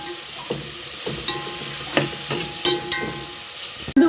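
Onions frying in ghee for ghee rice give a continuous bright sizzle, with regular scraping strokes of a spoon stirring through the pan, close by with no talking.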